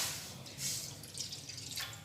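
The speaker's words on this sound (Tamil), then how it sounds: "1 டம்ளர் தண்ணி ஊற்றிக்கோங்க." A tumbler of water is poured into a cooking pot on the stove while making garlic pickle, a brief, faint splashing trickle heard alone.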